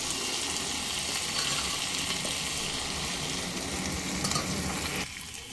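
Spices stirred with boiled mung lentils in a hot pan, a dense continuous close sizzle with scraping and stirring that eases near the end, no voices.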